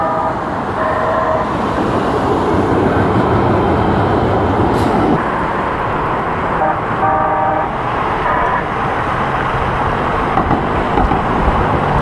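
Steady rumble of a light rail train rolling along a street amid traffic noise, with short horn-like tones sounding a few times.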